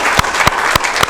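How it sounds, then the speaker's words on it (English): Audience applause breaks out, a steady wash of clapping with a few sharper individual claps popping through, close and fairly loud across the whole brief stretch. "That deserves a round of applause."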